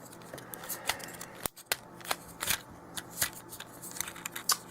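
Plastic pieces of a Transformers Siege War for Cybertron Sideswipe figure click and snap as they are folded, giving a sparse run of sharp, close ticks and rattles over a quiet background.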